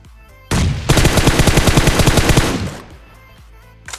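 Rapid automatic gunfire in PUBG Mobile on the Erangel map, a loud, close burst of about two seconds of fast repeating shots that fades into a few softer trailing pops.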